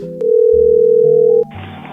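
A telephone dial tone plays before a call to a nail salon, a steady loud tone with a few shifts in pitch. It is followed by a short burst of line noise.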